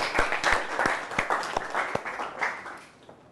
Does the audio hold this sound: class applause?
yes